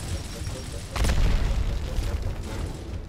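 A frag grenade explodes in the video game Gears of War Ultimate, a loud deep boom about a second in that is followed by a rumbling tail, set within dense game noise while players talk.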